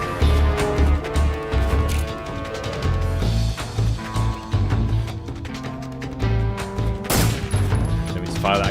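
Rapid bursts of gunfire in Metal Gear Solid 3 crackle over a dense, loud game soundscape with booming low rumbles, music-like tones and a sharp blast near the end.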